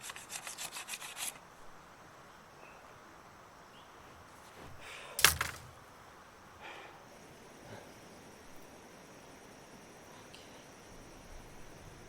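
Bamboo is handled and cut in a jungle while a simple shelter goes up: a burst of rapid rubbing or sawing strokes at first, then scattered knocks and one sharp crack, under a faint background of insects.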